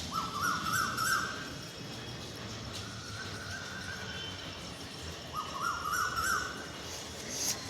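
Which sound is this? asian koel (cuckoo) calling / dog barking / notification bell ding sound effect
asian koel (cuckoo) calling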